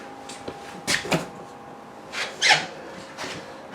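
Doors and a drawer of an RV refrigerator in a 2021 Forest River Sandpiper 3770FL fifth-wheel being pushed shut, giving a few soft thuds and clicks with light rubbing between them, close by in a quiet interior.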